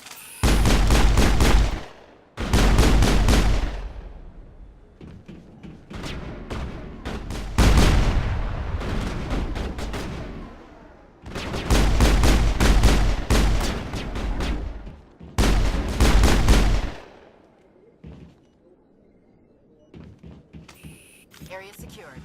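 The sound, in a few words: gunfire in a firefight, from the video game Mass Effect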